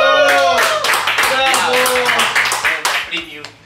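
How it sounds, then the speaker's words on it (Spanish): A small studio audience claps during an online talk show, brisk close clapping that fades out over a few seconds, with voices calling out over it. "Un aplauso. ¡Bravo! ¡Bravo!"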